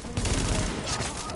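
Dense, close gunfire from Tom Clancy's The Division fills the moment as a continuous rattle of rapid shots, loud and steady with no clear pauses.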